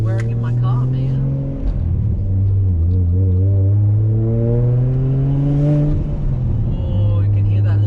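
A car with a Nissan RB25DET engine is driven at night. The engine gives a steady, close, droning note whose pitch rises and falls as it revs, continuing throughout with no clear speech over it.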